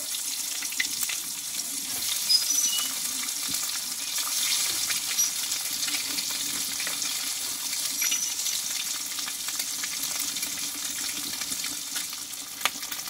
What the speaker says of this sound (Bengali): এইভাবে আমি একটু ভেজে নেব